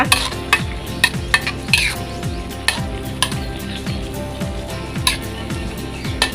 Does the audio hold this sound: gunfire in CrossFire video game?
no